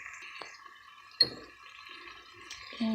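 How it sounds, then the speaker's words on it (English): Water poured into a pot of whole okra cooking in tomato sauce, with light splashes and drips, one sharper splash midway, and a fuller pour at the end, heard close with no speech. "and here goes the water."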